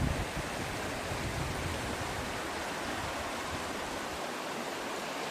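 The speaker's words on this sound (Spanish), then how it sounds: "Acá llegamos a esta parte que hay que bajar al arroyo. Al lecho del río." A stream flows over its rocky bed along a hiking route in the Catamarca mountains of Argentina, giving a steady, broad rushing wash that stays constant and fairly loud throughout.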